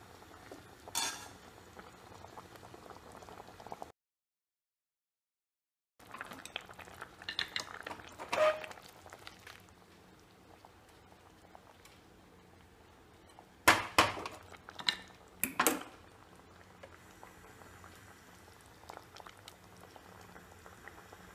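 A seer fish curry with coconut milk bubbles in a pot, soft, steady simmering close by, broken by a short silent gap and a few sharp clinks of utensil on pot, no voices.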